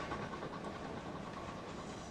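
A train runs along the track in Chris Sawyer's Locomotion railway game, a steady, even rumble with a faint rhythmic clatter that holds throughout.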